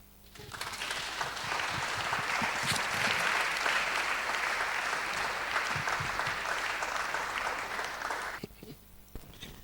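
An audience applauds after a lecture on theological education and AI, a dense sustained clapping that swells quickly, holds strong for about eight seconds, then thins out to a few scattered claps.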